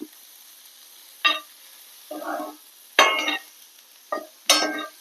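Several separate bursts of scraping and sizzling as bitter gourd and coconut are stirred and roasted in a hot pan, each lasting under a second, over a quiet background hum.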